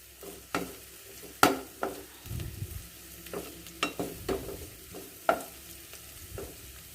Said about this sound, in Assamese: এতিয়া লৰাই লৰাই অকণমান সময় ভাজি কৰি থাকিম, যেতিয়ালৈকে আদা আৰু নহৰু